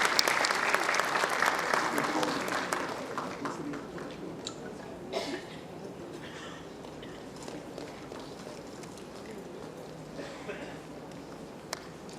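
Audience at a medical college convocation ceremony clapping, dense loud applause at first that thins out to scattered claps and a quieter room with footsteps and murmur.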